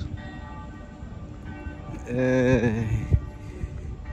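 Church bells ring from churches in Oxford, a brief swell of tolling about halfway through, set against a faint background hum of the street and distant voices.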